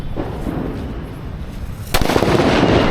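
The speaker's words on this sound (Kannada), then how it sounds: "ನೋಡಿ ನೋಡಿ ಲಕ್ಷ್ಮೀ ಪಟಾಕಿ" A Lakshmi firecracker goes off during Diwali celebrations: one sharp, loud bang cuts through the outdoor background noise, which stays louder afterward.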